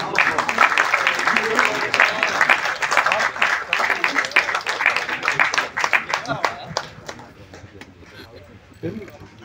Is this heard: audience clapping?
yes